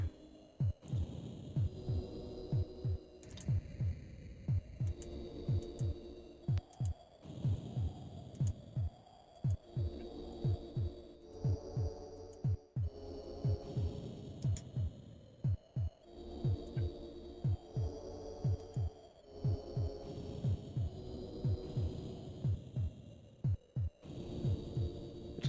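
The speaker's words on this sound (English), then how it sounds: "What's the heartbeat noise?" A steady thumping heartbeat from the Amiga strategy game Populous, pulsing in a repeating double-beat rhythm throughout, loud and alone against a low hum with occasional brighter game blips.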